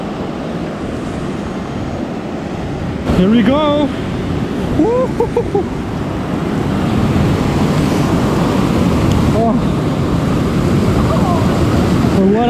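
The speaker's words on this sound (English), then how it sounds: "Here we have to go through this waterfall." Rushing water of a waterfall crossed on foot along an Alpine hiking path at Seebergsee in the Swiss Alps, a loud steady roar like heavy surf filling the whole clip, with excited shouting over it.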